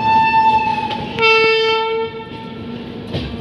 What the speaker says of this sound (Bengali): আর আমাদের ট্রেন অলমোস্ট শিয়ালদা ঢুকছে।